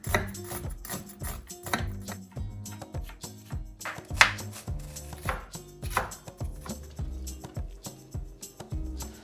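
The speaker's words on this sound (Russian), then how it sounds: "Лук нарезаю мелко." A knife finely chops an onion quickly and steadily on a cutting board, a dense run of crisp, close taps with a few sharper knocks.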